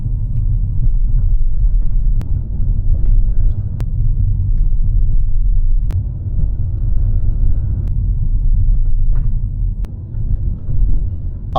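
Audi A5 Sedan riding on 18-inch rims over road bumps, heard from inside the cabin as a heavy continuous low rumble of road and engine noise with a few sharp thuds as the wheels strike the bumps.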